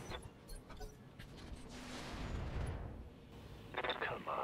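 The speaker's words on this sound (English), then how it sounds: "So we're going to blow up the tank with our Centurion. Blast it with everything." Missiles slam into a tank in the mech combat game BattleTech, fired from a Centurion mech: a long, rumbling barrage of booms and blasts swelling in the middle, with sharper impacts near the end, all under game sounds and faint voice.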